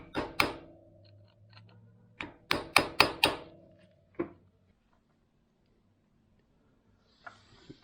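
Several sharp metallic taps from a screwdriver driven into the slot of a nut on a Honda Shadow Spirit 750 transmission shaft during clutch work, a pair then a quick run of four and a single later, close and alone.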